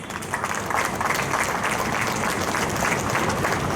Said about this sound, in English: Another wonderful round of applause for them, please.